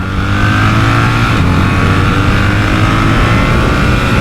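A BMW R1300 GS motorcycle engine accelerates hard, its loud, close exhaust roar with steady harmonic drone holding strong throughout under wind rush.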